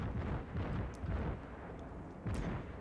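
Naval shells slam into a warship's citadel in a warship video game, two heavy booming impacts about a second apart over a steady rumbling background, with no talking.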